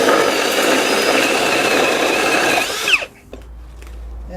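A Milwaukee M18 Hole Hawg cordless drill drives a 2 9/16-inch hole saw through the workpiece with a loud, steady whirring grind for about three seconds, then winds down and stops, leaving quiet room noise.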